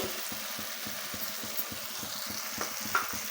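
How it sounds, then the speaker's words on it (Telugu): Tomatoes fry in a pan for village-style chicken curry, a steady close sizzle with rhythmic scraping strokes of a stirring spoon repeating every fraction of a second, no talking. "బాగా టమాటా కూడా బాగా వేగాలండి"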